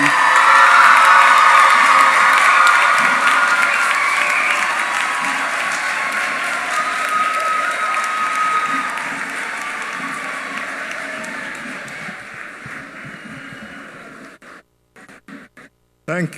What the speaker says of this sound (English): a rousing round of applause for the class of 2016